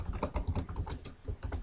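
Rapid, uneven clicks of typing on a computer keyboard, close and soft, with no talking.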